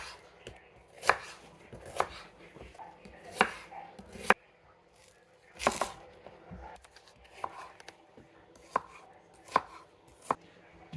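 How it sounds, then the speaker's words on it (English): A knife cuts an onion into half-moons on a board, with sharp, evenly spaced chops and quieter slicing between them, close and clear, no talk. "Почваме да режем лука на полумесеци."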